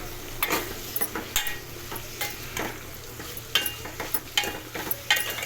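Bitter gourd pieces fry in hot oil with salt and a lump of jaggery, giving a steady close sizzle broken by repeated scraping stirs and light metallic ticks from a spatula against the pan.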